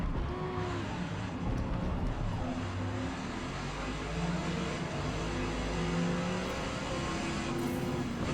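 A Dodge Challenger racing at the Nürburgring in Forza Motorsport, its engine droning loud and steady at high revs down a straight with a sustained, slightly rising pitch and no talk over it.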